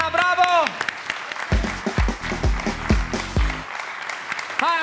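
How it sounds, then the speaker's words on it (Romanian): Studio audience applause for contestant Ana on the Romanian Wheel of Fortune game show, clapping throughout, with a host's voice at the start and end and a bright musical jingle of rising notes in the middle. "Aplauze pentru Ana, bravo!"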